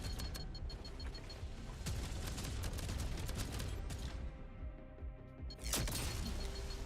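Rapid gunfire from a shooter video game as squad members take down sentries, with dense overlapping shots and cracks sounding loud and close throughout, briefly thinning near the end before a final burst.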